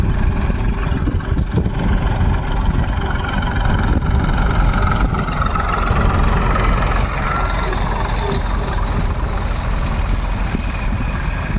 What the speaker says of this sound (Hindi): दोनों ट्रैक्टर एक साथ चल रहे हैं, दोनों ट्रैक्टर।